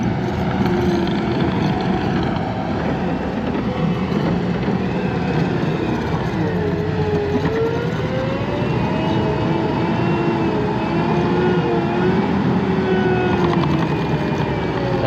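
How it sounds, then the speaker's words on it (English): A heavy skid steer digging a house basement pushes dirt uphill, its engine droning loud and continuous as it strains under load. "That's a heavy pusher skid steer, but going uphill, it struggles a little bit."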